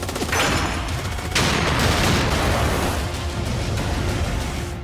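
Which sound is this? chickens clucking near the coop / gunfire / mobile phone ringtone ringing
gunfire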